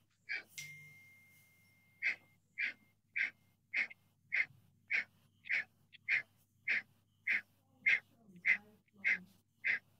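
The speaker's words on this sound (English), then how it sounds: "Just sitting down gently and breathing in and out." Pranayama breathing, a calm seated in-and-out breath in a steady rhythm: about fifteen short, evenly spaced airy breaths, close and fairly quiet, after one longer breath at the start, with no talk.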